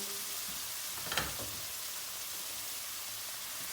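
Halva being stirred in a hot pan gives off a continuous dense hiss and sizzle, broken once by a short scraping stroke of the spoon; no one speaks.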